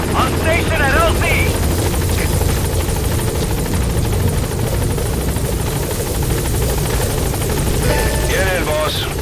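A support helicopter arrives at a landing zone in Metal Gear Solid V, its rotor a loud, steady close thrum throughout, while radio voices speak over it.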